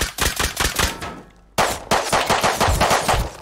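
Gunfire in the survival game Rust, loud close automatic bursts of rapid punchy shots, a brief silent gap, then another sustained burst.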